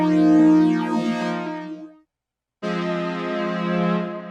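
Two sustained synthesizer chords, rich and bright; the first swells and fades out, then after a brief silence a second chord enters and holds.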